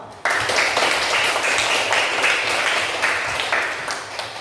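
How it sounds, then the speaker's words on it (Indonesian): Classroom audience applauding every student group after a religious education lesson, steady dense clapping from many hands starting abruptly and holding loud for several seconds. "Sekali lagi tepuk tangan untuk semua kelompok."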